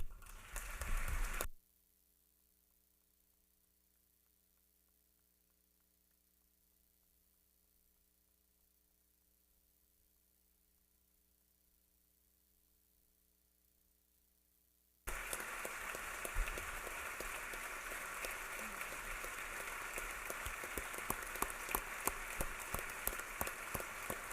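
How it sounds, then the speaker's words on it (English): A State of the State address audience in Georgia breaks into loud, sustained applause for first responders, a dense wash of clapping that swells after a long, quiet stretch of low hum. "Will you please join me in applauding their bravery?"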